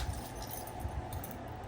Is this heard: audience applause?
no